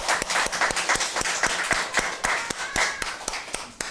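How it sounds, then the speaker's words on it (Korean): At a Sunday church service, the congregation claps for the children in a steady, fairly rhythmic run of sharp hand claps lasting a few seconds. "우리 아이들에게 우리 한번 크게 한번 박수 한번 쳐주죠"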